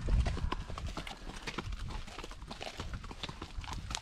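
Horse hooves clip-clop steadily on a paved road during a trail ride in the Bardenas desert, a close, even rhythm of hard strikes with faint rustling, no talking.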